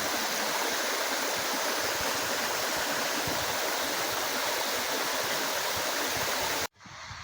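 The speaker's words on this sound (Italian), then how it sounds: "cascate" Waterfalls and pools beside a steep riverside climbing route with chains and vertical rock, roaring as a loud, steady, broadband rush close by that cuts off sharply near the end, with no talking.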